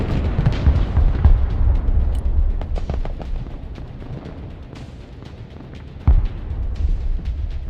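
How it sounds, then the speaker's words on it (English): Explosions and gunfire from the military strategy game Broken Arrow, with a helicopter being destroyed. Loud, dense rumbling booms and crackling bursts roll continuously, and a sharp fresh blast hits near the end. "They didn't change the explosion sound."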